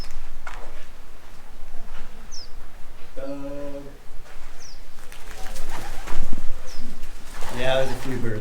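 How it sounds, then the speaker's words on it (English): Doves coo and flap away from nests at a desert oasis, with short cooing phrases and wingbeat flutters rising over wind and outdoor noise while people talk nearby. "all them doves are flying out"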